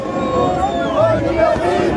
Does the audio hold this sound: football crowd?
yes